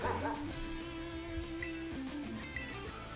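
Dachsbun, a Pokémon in Pokémon Scarlet, gives its cry as a short, dog-like yipping bark with whimpering tones, heard over game sounds.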